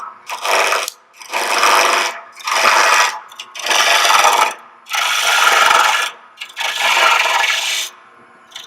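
Wood turned on a lathe as a tenon is cut on each end of a spiral box blank, six loud rasping scraping bursts separated by short pauses, close and alone with no talk.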